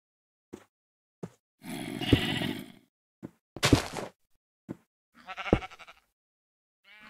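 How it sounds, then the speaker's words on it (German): Sheep bleating in the video game Minecraft, several short nasal bleats and calls spaced irregularly, close and fairly loud with silence between them. "Bitte? Schafe?"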